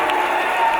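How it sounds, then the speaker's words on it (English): A British wrestling crowd cheers and roars in a dense, loud wash of voices and applause, a sustained burst with no gaps. "Dave, listen to this crowd"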